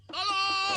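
A goat bleats in one loud, wavering cry under attack by a tiger, close and clear, with a shouted voice briefly overlapping at the end.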